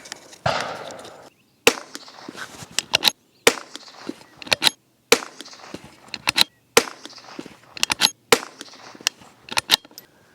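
A CZ457 chassis rifle fires SK ammunition at 50 yards: sharp, close cracks come roughly every second, some in quick doubles, with short silent gaps between them and faint clicks and handling noise in between.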